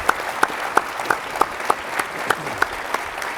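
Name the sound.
audience applause for the mayors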